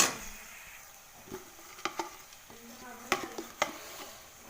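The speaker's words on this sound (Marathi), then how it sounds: "मग ते शिमला मिरची टाकायची तर हे जरा व्यवस्थित परतून घेते" Capsicum stir-fried in hot oil in a pan, a steady sizzle with close spatula scrapes and several sharp knocks against the pan.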